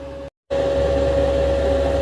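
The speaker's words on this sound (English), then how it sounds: "That is the spray booth going." A paint spray booth's extraction fan runs as a steady, loud broadband roar with a constant hum, briefly cut off near the start and then resuming, with no talking.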